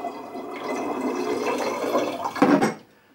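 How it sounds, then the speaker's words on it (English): Tartaric acid and sulfite solution poured into a fermentation bottle for apple cider, a steady close liquid stream with a brief heavier gush near the end before it cuts off. "we're going to pour it into our fermentation bottle"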